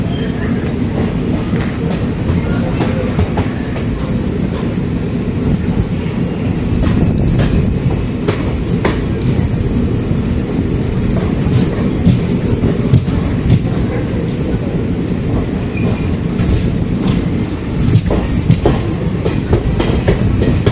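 Kacheguda Express from Puducherry rolling on the rails near Chennai, a loud continuous rumble with rhythmic clickety-clack of wheels over joints and occasional squeals, heard from on board.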